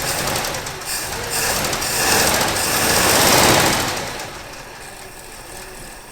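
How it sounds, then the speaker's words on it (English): Idling engine of a 1964 Chevy Impala, long off the road, with a fast, even lifter tick riding over the low running drone, the level swelling slightly midway then easing. "Our lifter tick's even quieting down a little bit."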